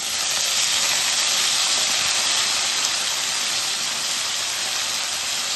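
Coriander leaves dropped into hot oil after green chillies for a Telugu coriander chutney, giving a loud, steady, close hiss and sizzle that holds unbroken throughout with no talk.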